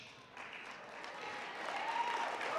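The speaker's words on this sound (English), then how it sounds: "let's give them a big round of applause for this awesome match" An audience at an evening celebration event bursts into applause that starts moderate and builds steadily, a full, continuous wash of clapping from many hands.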